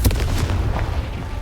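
Confringo explosion spell cast in Hogwarts Legacy, a loud, close blast with a sharp onset and a booming rumble that fills the moment.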